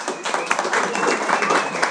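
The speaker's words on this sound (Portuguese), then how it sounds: "palmas para o Pedro" Brief burst of applause from a university software architecture class cheering a student named Pedro, a small group clapping unevenly at close range under speech.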